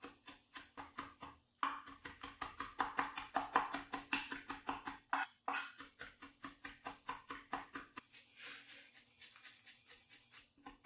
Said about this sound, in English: Then minced my herbs.